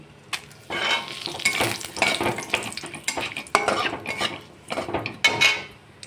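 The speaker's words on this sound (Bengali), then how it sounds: "গোটা জিরে আর শুকনো লঙ্কা ফোড়ন দিলাম।" Whole cumin, dried red chillies and bay leaves crackle and sizzle in hot oil close by. Steady frying hiss runs under repeated stirring scrapes and light metal utensil clinks, with no voices.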